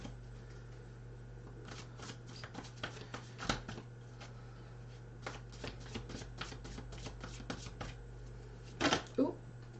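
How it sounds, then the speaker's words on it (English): Soft, quick riffling of cards being shuffled, quiet and close over a low hum, with a few sharper taps. "I'm just shuffling yours now."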